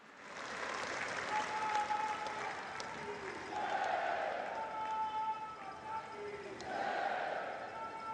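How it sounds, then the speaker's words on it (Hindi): A large crowd at an outdoor public rally in Navsari claps loudly and continuously to welcome Prime Minister Narendra Modi, a broad roar of applause that swells and dips, with voices and a faint amplified tone running underneath. "आइए जोरदार तालियों के साथ आमंत्रित करते हैं"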